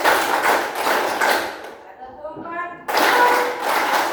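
Schoolchildren in a classroom clap together in counted bursts, crisp group claps separated by brief pauses, while a teacher's voice speaks between the rounds.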